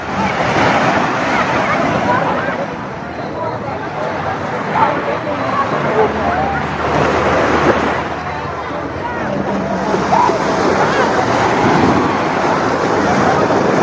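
Sea waves roll and wash onto a beach at Morong, Bataan, in steady surges, mixed with wind rumble across the microphone and faint voices in the distance.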